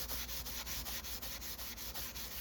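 A small brass plate on a Landis leather splitter is scuffed by hand to polish it, producing a steady, soft, close rubbing with even back-and-forth strokes and no talk.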